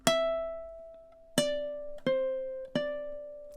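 Four plucked ukulele notes form the pickup bar into a song, each ringing clearly before the next in a slow, even rhythm, soft and close with nothing else heard.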